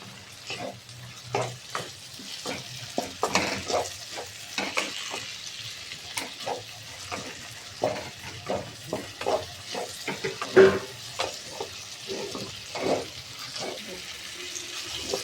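Chopped tomatoes and green chillies sizzle in a pan for egg tadka while a spatula stirs and scrapes in a steady rhythm of close, repeated strokes over a soft frying hiss.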